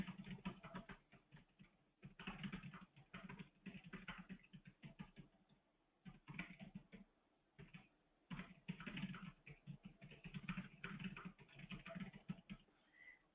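Someone types on a computer keyboard in quick, irregular bursts of close key clicks with short pauses between runs, entering a question into a form. No one speaks.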